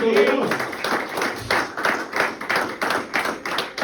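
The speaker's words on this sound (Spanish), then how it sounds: "¿Cuánto le da un aplauso a Cristo?" A church congregation claps during a Spanish-language service, rhythmic group clapping in regular pulses, close and fairly loud, with a brief voice at the start.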